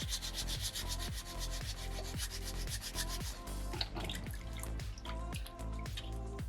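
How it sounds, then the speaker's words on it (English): Wet sandpaper scrubbing a small soapstone shark carving, with close, steady back-and-forth rasping strokes in a regular rhythm, a gritty, slightly watery scrape. "And as you're scrubbing into this stone, all that rock we're getting rid of, it'll try and jam up your sandpaper"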